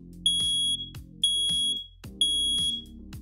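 A loud, piercing smoke alarm blares in three long, evenly spaced bursts, each a shrill high tone with brief pauses between.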